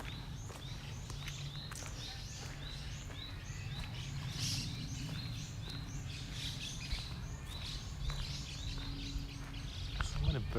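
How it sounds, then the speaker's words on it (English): Birds chirp and tweet from the cherry trees on an afternoon street in Tokyo, with repeated bright calls over a light background murmur and occasional footsteps. "So many birds are attracted here, probably because of the cherry trees."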